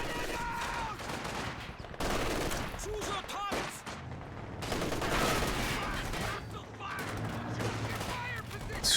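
Rapid bursts of machine gun fire in a competitive multiplayer shooter match, dense overlapping rattling volleys mixed with scattered other gunshots, loud and continuous, with players' voices talking over the din.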